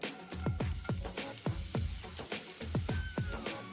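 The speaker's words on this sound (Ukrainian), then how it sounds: "на пательню відправляємо засмажку з четвертини маленької цибулини" A quarter of a small onion frying in a pan gives a steady close sizzle, broken by a string of quick, regular scraping strokes as it is stirred.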